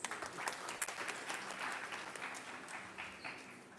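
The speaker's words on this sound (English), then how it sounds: "Please welcome him with a round of applause." A crowd at a conference inauguration applauds, a dense patter of clapping from many hands, fairly distant and steady, slowly tapering.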